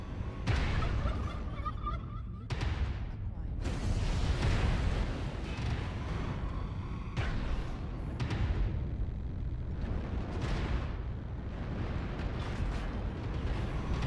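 Mech weapons firing during a MechWarrior Online battle, heavy booming blasts and mechanical clanks repeating through dense, loud low-end rumble with no talking.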